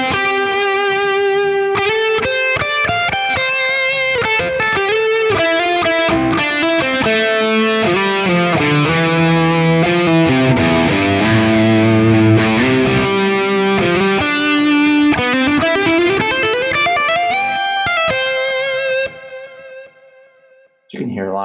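A distorted electric guitar, played through a Quad Cortex with tape delay, plays a melodic lead line with echoing repeats trailing each note, building to sustained bends before fading into delay tails.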